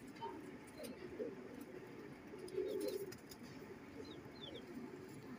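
A lal pari pigeon coos softly in a loft, low throaty calls repeating at intervals against faint background noise, while someone talks nearby.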